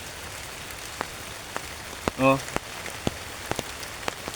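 Rain falls outdoors on a farm, with scattered drops tapping sharply and irregularly on a nearby surface over a soft steady patter, and one brief spoken exclamation partway through.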